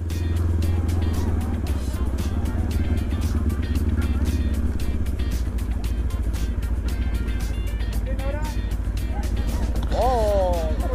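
A motorcycle rides along during a Children's Day run with the Ruteros Araucania club in Temuco, its engine droning steadily and close throughout while people talk over it.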